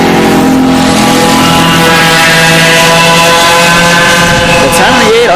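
Racing kart engines in a backwards sportsman singles enduro race drone steadily and loudly throughout, a continuous buzzing whine with a brief throttle lift near the end.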